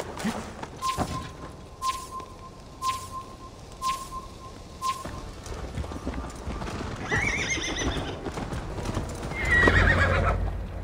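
Horse hooves clip-clop steadily in Assassin's Creed Valhalla, joined by neighing and whinnying near the end; no one speaks over the hoofbeats.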